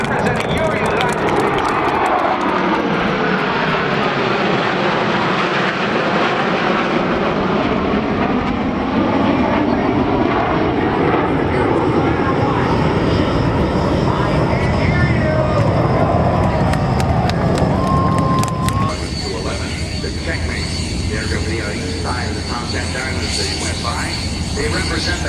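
Military jet aircraft roaring overhead at a naval air station airshow, a long rising and falling rush of engine noise with a doppler sweep, loud and continuous, with an announcer talking over it.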